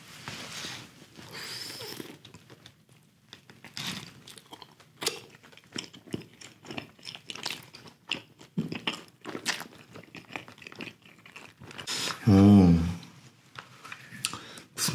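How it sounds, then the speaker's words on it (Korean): Chewing and biting on a soft, squishy blue ocean jelly candy, with close, quiet mouth sounds and a brief loud crunchy burst near the end. "바다 젤리 한번 먹어보겠습니다."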